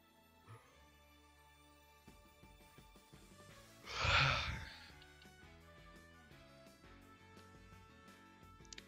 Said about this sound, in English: Because I said it was a yawn, my body instinctually made me yawn.